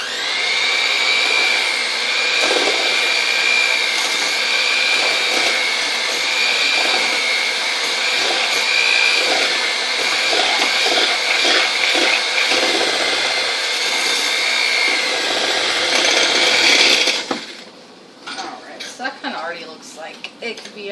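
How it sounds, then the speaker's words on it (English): An electric hand mixer beating rainbow cupcake batter runs as a steady, close whir for about seventeen seconds, then stops, leaving scattered clinks and faint kitchen noises. "I'm going to use my mixer. Mix this up real quick."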